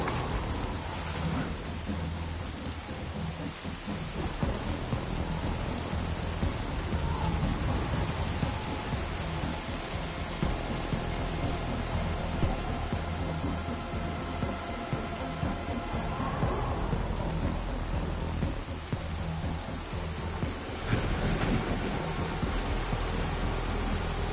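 Steady rainfall in the video game Dying Light: The Beast, a continuous hiss of rain on surfaces with faint rumbles, held at a moderate level throughout, with a few brief louder knocks.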